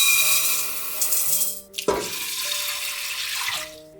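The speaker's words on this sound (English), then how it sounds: "I have this pot on the stove and I'm gonna add in our rice and our water." Water and rice pour into a pot on a stove for Danish rice porridge, a steady splashing stream that cuts off sharply, then a second pour follows, close and fairly quiet with no talking.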